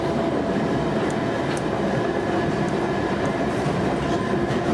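London Underground train running on rails, a loud continuous rumbling roar with steady rail noise and faint clicks throughout, no speech.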